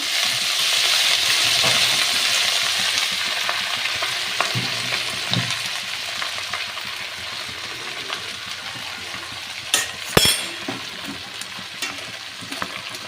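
Red amaranth greens fry in a hot pan with a steady, loud sizzle that slowly settles, with occasional stirring scrapes and a sharp metallic clink near the end.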